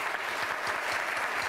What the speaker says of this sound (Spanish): a quien, por supuesto, recibimos afectuosamente con un aplauso